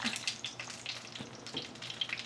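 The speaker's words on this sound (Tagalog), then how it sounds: "kung nagpiprito kayo ng talong" Eggplant frying skin side down in hot oil gives a steady crackling sizzle with small spitting pops, close and moderately loud, with no talking.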